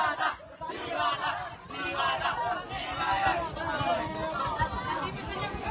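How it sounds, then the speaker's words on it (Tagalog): A parade crowd in Malabon shouts and cheers for Diwata, a dense, steady babble of many voices close by with bursts of louder calls. "Pakinggan nyo yung mga hiyawan."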